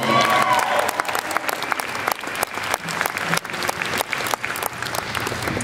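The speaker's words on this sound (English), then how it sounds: "Clap for him anyway." A concert audience at a university winter show applauds a performer, a crowd of many hands clapping steadily with scattered louder individual claps standing out through the burst.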